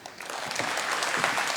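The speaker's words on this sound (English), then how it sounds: "big round of applause" Audience applause at a soft power conference talk, a dense, even burst of clapping from a crowd.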